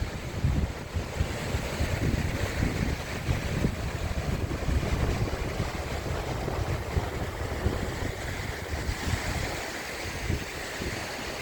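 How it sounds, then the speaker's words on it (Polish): Winter sea waves roll onto an empty beach on a drizzly day, a steady, dense wash of surf with wind buffeting the microphone throughout and no voices. "nawet taki, taki szum fal sobie nagrałem"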